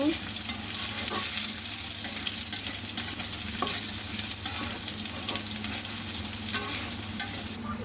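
Potatoes and onions sizzling in a hot pan for khichuri, a steady bright crackle with occasional scrapes and stirring clicks, close and continuous with no talking.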